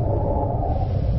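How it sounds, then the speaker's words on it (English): A deep, steady low rumble of a Reaper Leviathan's roar in Subnautica, like a distant sea creature, droning without break and muffled, as if heard through water. "That is a Reaper, and I think it's behind me"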